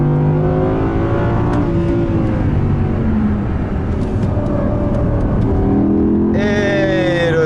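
An Audi driven hard around a race circuit, its engine droning loud and close from the cabin with rising and falling revs through the corners, the tone climbing sharply near the end.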